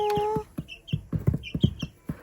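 Two-week-old light Brahma chick giving clucky, fowl-like chirps, a quick run of short close peeps following an opening tone, loud and alone without talk.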